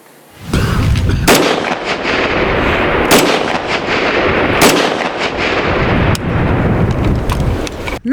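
Loud, close gunfire during sniper training: rapid shots cracking one after another in irregular bursts, with no pause for several seconds.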